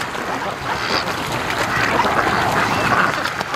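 Muscovy ducks on a lakeside dock give low, breathy quacks and hisses, soft and steady over background noise, heard from a few meters away.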